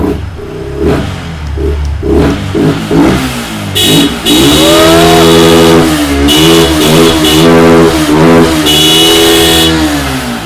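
A cheap motorcycle, sold for about ₹16,000, has its engine revved hard several times in a row, rising and falling in pitch. It sounds loud and close, with no talking over it.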